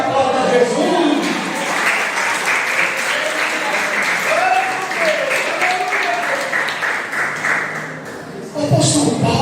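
A church congregation applauds during a sermon, a sustained crowd of clapping hands that fills the space evenly for several seconds, with voices and a raised preacher's tone mixed in over the clapping.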